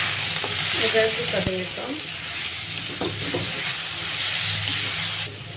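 Ginger sizzles in desi ghee in a pan, a steady bright hiss with brief stirring scrapes and clinks, while someone speaks briefly over it.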